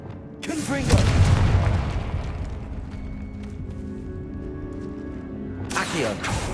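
A Confringo blasting spell goes off in Hogwarts Legacy inside a tomb, a deep booming explosion that swells and rumbles for a couple of seconds before a second burst near the end.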